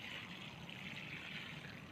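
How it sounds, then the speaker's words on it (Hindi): Water sprinkled over saffron bulbs just planted in pots, a soft, steady hiss of spray that runs unbroken for two seconds, quiet and with no talking. "अब इनको मैं ये स्प्रिंकलिंग कर देता हूँ"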